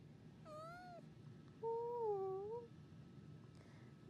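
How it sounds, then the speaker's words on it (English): A kitten meows three times, each call short and plaintive, the middle one longest and loudest, close by in a quiet indoor room with a low background hum. "Look at that kitten."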